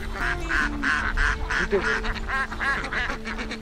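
A flock of farm ducks kept on an open pond in Bangladesh quacks repeatedly in quick, overlapping bursts, close and fairly loud, with no voices.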